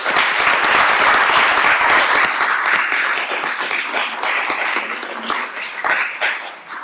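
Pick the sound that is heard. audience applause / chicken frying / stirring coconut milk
audience applause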